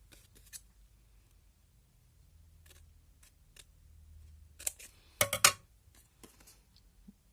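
A few short, crisp snips of scissors cutting a paper envelope in a quiet room, isolated clicks spaced apart with a brief cluster of sharper cuts near the end.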